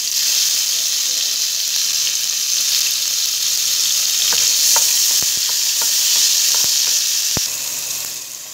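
Tomatoes and garlic frying in a pan, a loud steady sizzle with intermittent scraping knocks of a utensil as the mix is stirred, fading slightly at the end.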